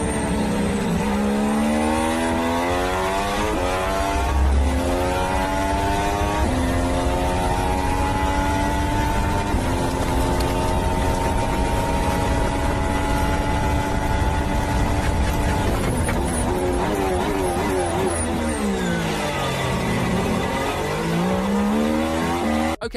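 A Ferrari Formula 1 car with a new, louder, raspier engine screams past in repeated high-revving sweeps, its pitch climbing through gear changes and then dropping as it brakes, with a loud, close, continuous engine roar throughout.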